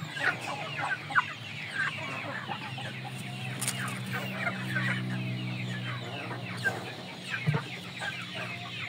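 Indio Gigante chickens, a large imported breed, clucking in a farm pen: a scattered run of soft, overlapping clucks and calls, moderately distant and fairly quiet throughout, with no talking.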